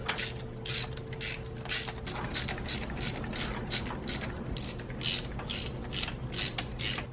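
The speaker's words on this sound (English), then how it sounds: "So now we can get our spark plugs out." Hand ratchet working on the spark plugs of a Saab 9-3 V6, a rapid run of sharp clicking strokes in quick bursts, close up and steady, with a faint hum underneath.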